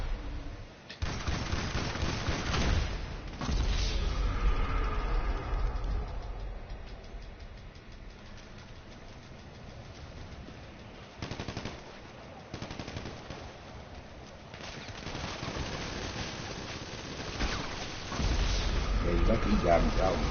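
Automatic gunfire bursts from a shooting video game, loud and recurring in several blasts over a low engine-like rumble, with players talking between the shots.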